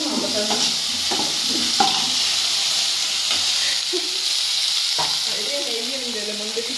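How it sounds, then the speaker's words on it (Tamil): Pineapple kesari ingredients fry and sizzle in ghee in a pan, a steady close hiss with scraping stirring strokes throughout, while a voice talks faintly in the background. "அதுக்கு வதக்கின நெய் அதிலே நல்லா வதக்கி கொஞ்சம் கலர் சேஞ்ச் ஆகும்"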